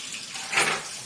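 Water runs from a kitchen tap as hot water is drawn for gravy, a brief broadband gush that swells in the middle and then settles, moderately quiet with no talking.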